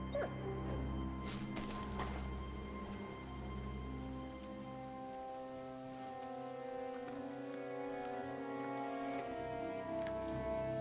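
Dog named Mutt whimpering in the medieval game Kingdom Come: Deliverance 2, a few soft whines and yips over a steady ambient game background, moderately close.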